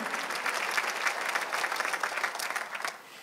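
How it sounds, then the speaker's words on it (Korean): A church congregation claps hands together in praise. Loud, dense applause with a quick, even rhythm lasts for a few seconds and then tapers off. "박수를 치며 하나님께 영광을 돌리시라고"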